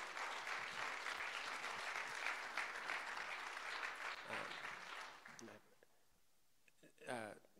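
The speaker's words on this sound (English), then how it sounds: "let's give him a hand clap of praise" A congregation claps in praise during a church testimony, a dense, loud round of applause that fades out near the end, followed by a brief spoken voice.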